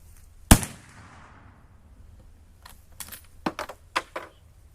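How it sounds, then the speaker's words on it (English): A single sharp, loud gunshot from a black powder .308 rifle cracks out and decays, followed by quieter scattered clicks and knocks as the shooter handles gear, with no speech. "I think I shoot the target down here."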